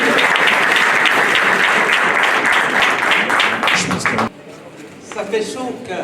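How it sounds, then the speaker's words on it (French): Loud, thunderous applause fills the hall at the Congo Na Paris business fair, dense clapping for about four seconds before it cuts off sharply, leaving quieter room sound and a voice. "Un tonnerre d'applaudissements, mesdames et messieurs."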